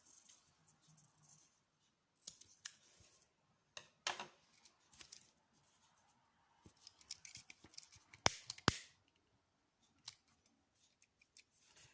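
Scissors trimming the excess cords at the end of a knotted macrame bracelet, a few sharp close snips spread over quiet stretches with faint handling rustle, no talking.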